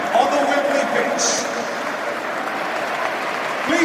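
A stadium crowd at Wembley applauds in tribute to Sir Bobby Charlton, sustained broad clapping from thousands with faint voices and whistles mixed into the roar.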